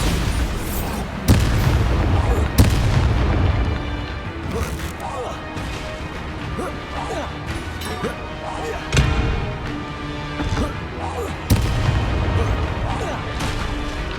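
Magical combat in the video game Hogwarts Legacy, with spells cast in rapid succession: repeated loud blasts, crashes and booming impacts over a steady rumble, with several sharp peaks and voices in the mix.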